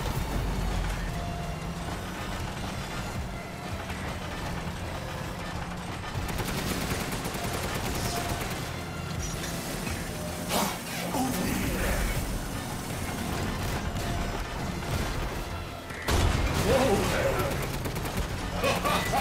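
Sustained gunfire and crashing combat noise fill a fight in Resident Evil Village, with repeated shots and a louder burst near the end, mixed with music and game effects under a voice.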